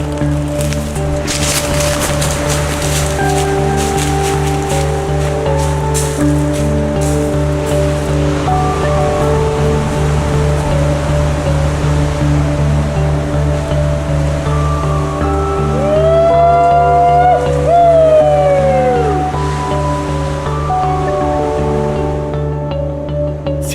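Ocean waves wash steadily onto a stony beach, a constant broad roar with no talk, while sustained musical tones and a rising and falling electronic whine sound over it in the middle.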